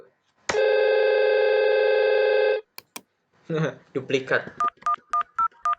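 IP phone tones in a Packet Tracer VoIP simulation: a steady two-second tone, a couple of sharp clicks, a brief voice, then five short evenly spaced beeps in quick succession.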